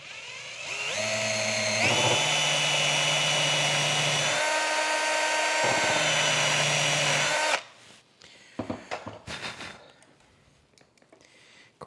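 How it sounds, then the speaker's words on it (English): A power drill drives a number 6 by 3/4 screw into a wooden table top, a loud close whine that steps up in pitch, pauses briefly and runs again before ending in clicks and handling noise. "So I'll get the drill set up and we'll drill that."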